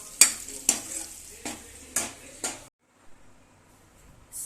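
Ghee bubbles in a home kitchen pan as a spoon scrapes through it in about five sharp, evenly spaced strokes over a low sizzle, then the stirring stops and only faint cooking noise remains.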